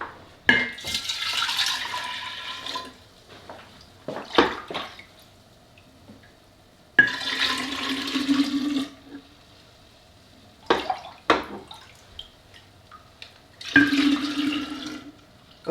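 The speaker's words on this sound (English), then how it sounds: "Let me rinse my cup again." A cup being rinsed with hot water and vinegar at a sink, heard as three separate bursts of running, splashing water with short drips and quiet gaps in between. There is no talking.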